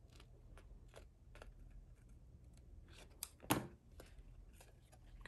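Quiet snips and clicks of scissors cut through card in short irregular bursts, with one sharper, louder crunch partway through.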